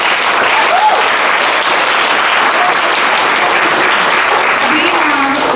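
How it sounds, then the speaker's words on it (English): An audience at a wellness center ribbon cutting applauds loudly and continuously, dense clapping filling the room, with a few voices over it. "so I want to give them a big round of applause."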